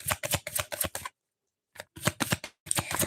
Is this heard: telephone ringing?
no